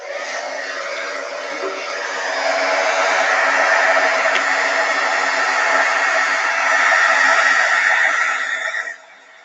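An embossing tool runs while decorating a handmade card, giving a loud, steady whirring blow that swells slightly midway and lasts about nine seconds before cutting off.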